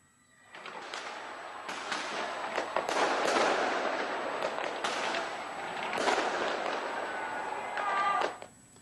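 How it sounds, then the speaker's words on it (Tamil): New Year fireworks burst across a New Zealand city sky in a dense, continuous barrage of crackling booms and layered explosions, loud and sustained, heard at a distance with no talking. "நகரம் முழுவதும் நிகழ்த்தப்பட்ட வான வேடிக்கை வானில் வர்ணஜாலம் காட்டியது"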